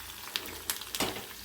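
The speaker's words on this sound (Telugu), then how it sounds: "తర్వాత కరివేపాకు ఇలా వేగాలి." Curry leaves frying in hot tempering oil for a lentil and spinach dish, a close crackling sizzle with a few sharp pops and spatters.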